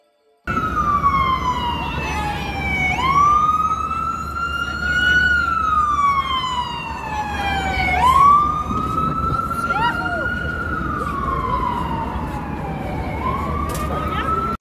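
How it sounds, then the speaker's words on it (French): An ambulance siren wails in long rising and falling sweeps as it passes close by on a New York street, loud and continuous, over low road rumble. "J'ai une petite vidéo de l'ambulance qui passe"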